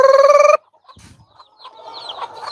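A rooster crows loudly at the start, then hens make softer scattered clucks and calls nearby.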